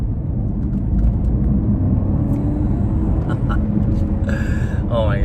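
A 2020 BMW 750i accelerating hard, heard from inside the cabin as a loud, steady low engine and road roar that holds throughout, with a person talking over it.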